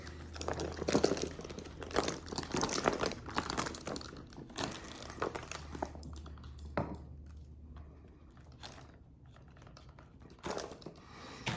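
Soft plastic fishing bait being unwrapped from its packaging up close, with irregular crinkling and rustling bursts that come and go, then quieter pauses between handling noises.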